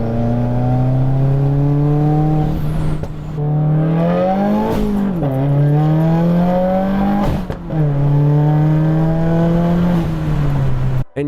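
A tuned car with a Tomei catback exhaust, high-flow catalytic converters and a Cobb SF intake revs loudly and steadily, its engine note climbing, dipping with gear changes and climbing again, with short blow-off bursts between pulls.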